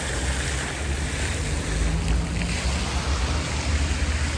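Water splashing from fountains in a Bucharest square, a steady broadband rush that fills the whole clip, loud and continuous with a faint wind-like hiss and no voices.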